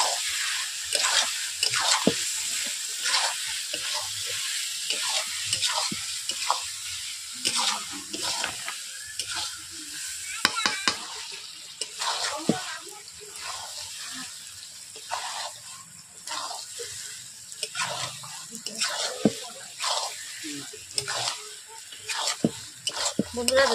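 Chicken korma cooks in spices and oil, with chicken, onion and masala spattering hard in the pan: a close, busy sizzle broken by frequent sharp pops and stirring scrapes, with no talking.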